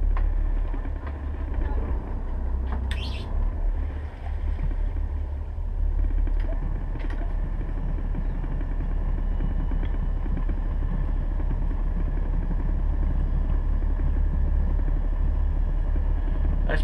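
A boat engine in gear pushes the vessel slowly forward, a steady low rumble and hum running continuously under intermittent talk and a few brief knocks and clatters.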